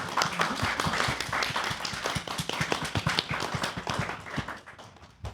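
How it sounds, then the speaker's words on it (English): Audience applause at a bookstore talk on design, a dense crowd of hands clapping steadily and close, the claps thinning out toward the end. "Everyone give them a round of applause."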